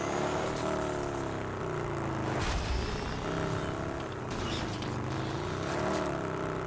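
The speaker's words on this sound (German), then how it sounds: "Motorrad ist echt schon ein bisschen anstrengend zu fahren." A motorcycle engine drones in a Rage 2 video game ride. The steady, mid-loud hum shifts pitch as the rider speeds up and slows down, with brief surges along the way.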